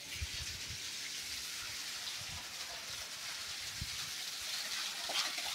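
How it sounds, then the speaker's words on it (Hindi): Steady heavy rain hisses continuously over a village, a dense even downpour with occasional louder drips and splashes nearby. "आप देख सकते हो कितनी तेज़ बारिश है"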